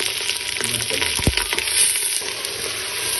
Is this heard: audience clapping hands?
no